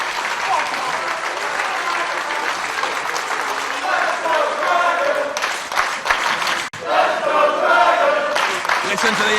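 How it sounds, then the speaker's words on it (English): Crowd at a wrestling match between Bryan Danielson and PAC applauding and cheering loudly and continuously, dense clapping swelling near the end, with a commentator talking over it. "Listen to the applause."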